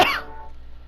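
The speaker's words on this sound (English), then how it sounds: "I still have that cough." A single sharp, close cough bursts out, then quickly dies away into quiet background.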